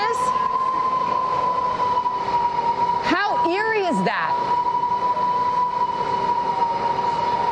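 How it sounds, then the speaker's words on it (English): Category 4 eyewall winds of Hurricane Laura are heard from inside a building: a loud, constant roar with a steady whistling tone, broken midway by a brief warbling, wavering howl. A person speaks briefly over it. "That is what a Category 4 eye wall sounds like inside a building. It sounds more like a freight train outside."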